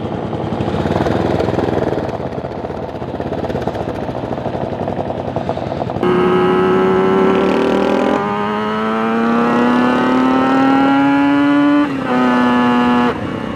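A Griffin Custom TA125 tribute motorcycle engine revs high and winds right out, loud and close, climbing in pitch with a brief dip between pulls.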